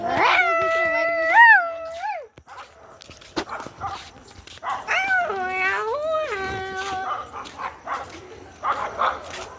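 A nearby dog lets out long, wavering whines and yelps along with a few short barks, while people talk in the background.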